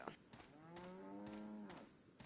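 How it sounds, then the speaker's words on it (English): A cow in the video game Resident Evil 4 gives a single long, drawn-out moo, full and steady, heard alone and fairly faint. "Hey, it's a cow."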